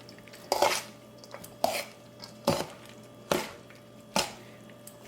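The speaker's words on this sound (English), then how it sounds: "I'm gonna stir it up." Hot sauce being stirred into zucchini noodles in a pot for a no-oil whole-food dish: five sharp, evenly spaced knocks and clinks of a utensil against the pot, each fading quickly, with quiet gaps between and no voices.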